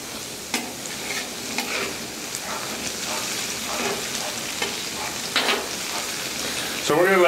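Clam chowder ingredients cook down on a Blackstone griddle top, a continuous crackling sizzle with scraping and stirring strokes recurring throughout and a louder scrape at the end.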